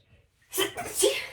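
One sharp, close sneeze bursts out after a short quiet pause, loud and breathy with a trailing exhale.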